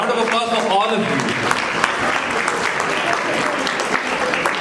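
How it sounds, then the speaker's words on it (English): An audience at a 2019 Shaukat Khanum fundraiser in Dallas claps loudly and steadily throughout, a dense wash of applause with a voice briefly heard at the start. "So a round of applause for all of you."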